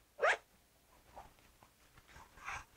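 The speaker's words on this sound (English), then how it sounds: "Got the zipper." A brief, quick zip on a pair of men's travel pants near the start, followed by faint rustling and a second soft pull toward the end.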